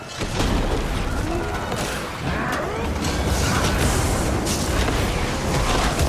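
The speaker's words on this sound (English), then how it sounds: "Hurricane cannon!" A hurricane cannon fires in the video game Guild Wars 2, a loud sustained mechanical rumble with booming blasts and creaking that fills the whole stretch without pause.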